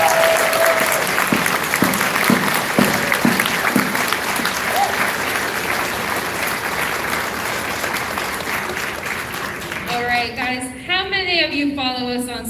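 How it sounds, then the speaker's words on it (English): Sustained applause from a large convention audience at a closing ceremony fills the hall, dense and steady throughout, with a voice speaking briefly over the clapping near the end. "give yourselves a round of applause for that"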